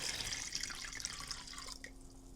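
Distilled water pours steadily into a container while a zinc plating bath is made up, a faint trickling splash that thins toward the end.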